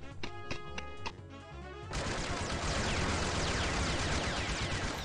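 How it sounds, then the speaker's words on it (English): Gunfire in the video game Tokyo Afterschool Summoners erupts as a dense, continuous burst of rapid shots after a short musical passage, carrying on loud and unbroken to the end. "Gunshots! What's happening now?"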